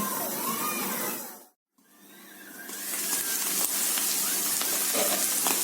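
Mushrooms cook in a covered frying pan (kawali), giving a steady broadband sizzle that cuts out briefly near the start, then returns louder and continuous, with faint clinks and no talk.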